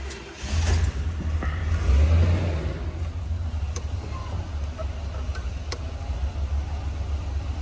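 A 1969 Chevrolet Chevelle muscle car starts up and settles into a steady idle, a deep engine rumble with a brief rise early on, close to the microphone with faint ticking.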